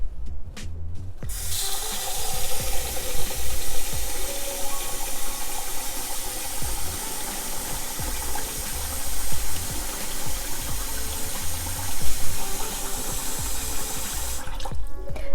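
Water sloshes and splashes steadily as rice is rinsed in a pot, then drains out in a continuous rushing pour, loud and close, with no voices.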